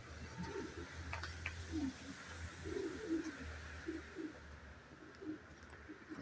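Pigeons in a new pigeon loft coo in low, repeated throaty bursts, with a few faint chirps over a steady background hum.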